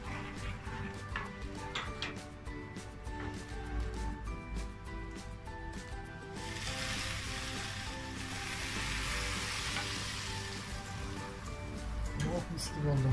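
A teaspoon of mild red pepper flakes sizzles as it is spooned onto a bowl of soup, a crackling frying noise that swells into a broad steady hiss midway and continues to the end.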